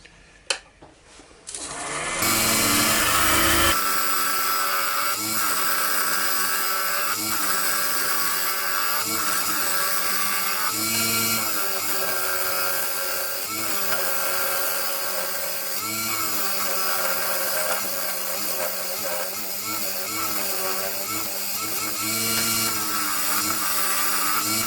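A wooden box blank spins on a woodturning lathe as a tool works it, giving a steady, loud whirring drone that starts after a brief quiet opening and runs on, its pitch wavering slightly as the cut changes.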